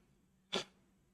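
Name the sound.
sneeze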